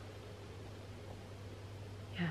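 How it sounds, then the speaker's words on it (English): White noise machine running beside a sleeping baby, giving a soft, steady broadband hiss with a low constant hum beneath, unbroken throughout, ending in a brief faint bump near the close. "Down a little bit because otherwise you'll just hear her white noise."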